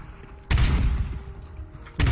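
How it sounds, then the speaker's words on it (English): Shotgun blasts in the video game Counter-Strike: Global Offensive, two loud booming shots about a second and a half apart, each with a short rumbling tail and no talking. "How am I missing with a shotgun?"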